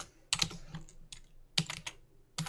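Typing on a computer keyboard while entering a formula in LibreOffice Calc: a few close, crisp key clicks in quick clusters separated by short pauses.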